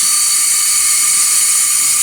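Steady high-pitched whirring hiss of a vacuum pump evacuating the AC system of a 2012 Mercedes GL350 after a compressor replacement, continuous and fairly loud with no variation and no talk.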